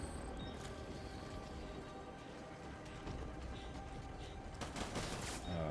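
Video game gunfire crackles in fast, dense volleys, faint and distant under a steady ambient hiss, rising into sharper bursts near the end.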